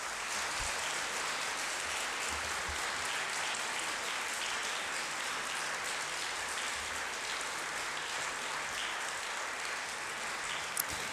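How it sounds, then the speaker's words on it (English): A crowd applauds the planning committee of a debate tournament, a steady, hissing wash of many distant hands clapping evenly for several seconds without a break. "I think the planning committee deserves a round of applause"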